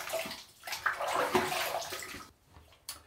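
Tap water runs and splashes in a sink for rinsing after a shave, a fluctuating close wash of water that drops off near the end, then returns as a brief final splash.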